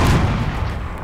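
Artillery fire in a tank battle video game: one heavy, booming blast with a dense low rumble that rolls on and fades slowly over about a second.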